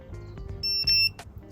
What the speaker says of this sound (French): 2 bips constants,